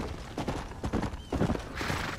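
Horse hooves clip-clop in the Red Dead Redemption video game, a close, loud run of uneven hoof strikes with a horse snorting amid the steps.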